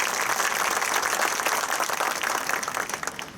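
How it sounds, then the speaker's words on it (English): A round of applause at a university event, a steady dense patter of many hands clapping together, moderately loud and continuous with no voices over it. "here's a quick round of applause for John Davis"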